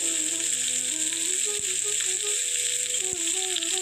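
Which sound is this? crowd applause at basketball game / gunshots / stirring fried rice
stirring fried rice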